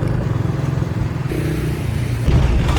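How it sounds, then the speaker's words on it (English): A motorbike rides along a road in Vietnam, its engine a steady low drone with bursts of rising revs, close and continuous throughout. "By motorbike"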